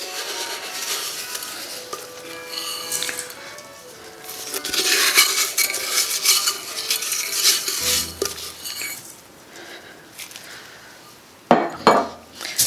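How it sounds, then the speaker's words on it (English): Epsom salt stirred into bath bomb mixture in a bowl, a soft scraping and clinking of utensil against the bowl in irregular strokes, fairly quiet and close, with a couple of sharper knocks near the end. "we're just going to give this a good mix together"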